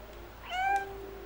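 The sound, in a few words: cat meowing in the video game Stray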